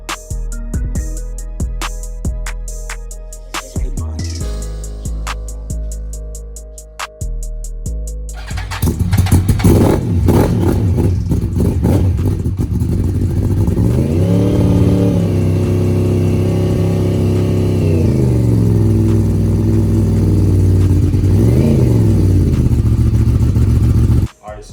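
Street motorcycle fitted with an aftermarket exhaust, first cranking with sharp separate bursts, then catching and revving loudly, the pitch swelling and falling in repeated throttle blips; voices can be heard over parts of it.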